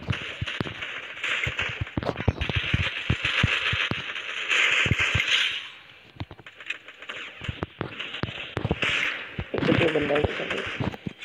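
Desert Eagle pistol shots ring out in a mobile shooting game as a rapid series of sharp, close cracks, scattered irregularly over eleven seconds, with a voice talking beneath.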